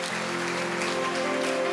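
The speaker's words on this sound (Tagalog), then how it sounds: "isang malakas sa palakpak para sa Lord." Congregation applause in a church service, a brief dense wash of clapping layered over a sustained keyboard chord that holds steady throughout.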